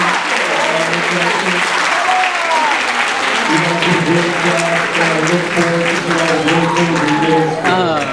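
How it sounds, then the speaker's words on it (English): Sustained audience applause for fifth grade performers at an elementary school spring concert, steady clapping filling the room while voices talk and call out over it. "A few of you guys round of applause for your performance."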